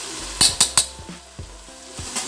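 Soaked ponni rice is tipped into a pot and stirred for a vegetable biryani. Three quick, close metallic clinks are followed by softer scrapes and knocks, with no talking.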